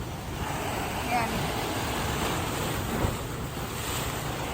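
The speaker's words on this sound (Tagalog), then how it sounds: "Lumalakas na ngayon ang alon" Strong ocean surf rolls and crashes continuously below the white cliffs of Tung Lung Chau, Hong Kong, with heavy wind buffeting the microphone and a faint voice now and then beneath the roar.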